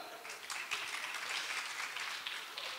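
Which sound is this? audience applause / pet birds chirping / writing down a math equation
audience applause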